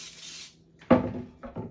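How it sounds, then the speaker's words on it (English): Baker's Joy baking spray hisses briefly onto a 9x13 pan, followed by a couple of close, dull knocks as the pan and can are handled. "I'm going to get some of my favorite Baker's Joy. Love it. I'm going to spray my pan."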